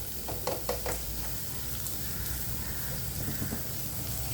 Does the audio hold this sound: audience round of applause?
no